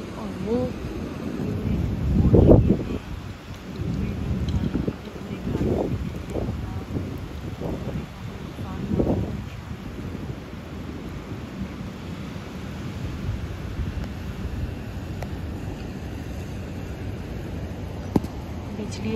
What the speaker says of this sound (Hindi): आसमान पे देखिए पूरे बादल आए हुए हैं और हवा चल गई और बारिश भी हो रही है